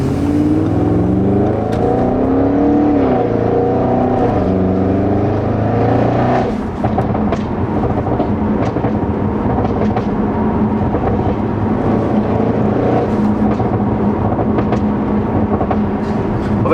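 A car engine revving loudly on an avenue while the car runs with its hazard lights on, a sustained deep roar rising and falling in pitch and growling continuously throughout, close and dominant with no talking.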